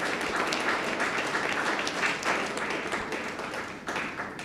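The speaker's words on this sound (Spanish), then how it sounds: "Un aplauso para el grupo de evangelismo." Congregation applauds an evangelism group during a church service in Bonaire, a full, sustained round of clapping that holds steady for several seconds and tapers slightly near the end.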